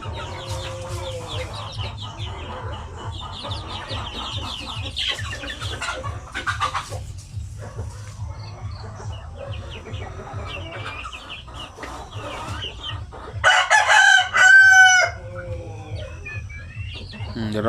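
Chickens cluck steadily and a rooster crows briefly near the end on a poultry farm raising native chickens, with a low constant hum underneath and occasional talk in the background.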